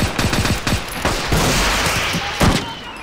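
Sustained automatic machine-gun fire in Arma 2, a World War II-era Omaha beach invasion battle, with rapid bursts and overlapping thumping shots filling the full three seconds, loud and close.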